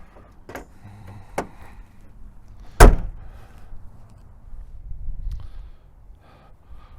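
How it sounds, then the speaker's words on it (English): A 2022 Ford Maverick XLT pickup door, on the 2-liter four-cylinder turbo model, opening with one sharp, close latch clunk midway. Faint small clicks come before it, and low handling rumble follows. "Door opens pretty nice and wide."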